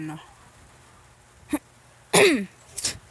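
A few short, sharp coughs break a near-silent moment, the second one loudest, spaced unevenly over a couple of seconds.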